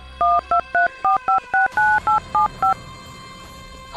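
Telephone keypad tones as a number is dialed: about ten crisp beeps in quick, even succession, then a faint low hum.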